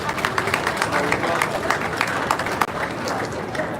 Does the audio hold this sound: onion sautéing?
no